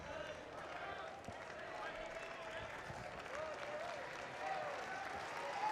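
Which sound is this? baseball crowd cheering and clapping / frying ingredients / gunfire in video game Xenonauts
baseball crowd cheering and clapping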